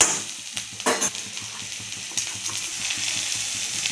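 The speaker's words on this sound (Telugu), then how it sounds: "కొంచెం ఫ్రై చేసుకోండి" Pieces of cut raw mango fry with onion in a pan, a steady moderate sizzle broken by a few sharp stirring scrapes near the start.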